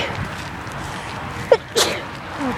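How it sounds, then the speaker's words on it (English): A single sharp sneeze bursts out close by, a brief explosive sound against a quiet, mossy woodland background. "I had to sneeze."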